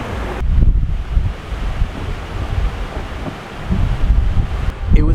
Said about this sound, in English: suddenly it started pouring down and a lot of wind